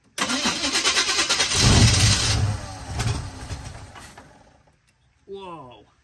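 A 1980 Chevy K30 truck's engine cranks loudly on a new starter, with a pulsing churn that swells and then fades out. A short voice follows after a moment of quiet.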